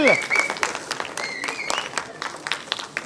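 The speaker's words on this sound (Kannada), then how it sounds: "ಜೋರಾದ ಒಂದು ಚಪ್ಪಾಳೆ ಬರಲಿ" Audience applause at a Kannada film audio launch event, a dense clapping wash under an amplified voice and whistle-like tones, the clapping continuing at moderate level throughout.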